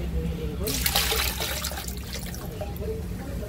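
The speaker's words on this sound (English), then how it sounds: "you get some water and you pour it in the toilet" Water splashes and gushes as it is poured from a bucket into a public toilet bowl to flush it, a brief heavy pour tapering into trickling, with a voice speaking faintly underneath.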